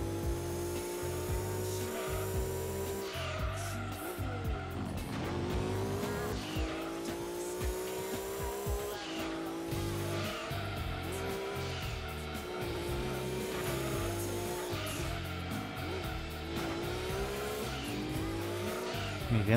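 A race car roars through Gran Turismo 2 on the PlayStation, its engine note rising and falling continuously through gear changes with bursts of tire squeal in the corners, loud and steady throughout.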